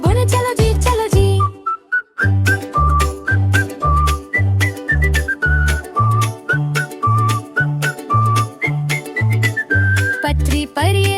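A cartoon train whistle in an animated children's rhyme sounds as a bright, repeated whistled tune over a steady, bouncy beat, loud and rhythmic.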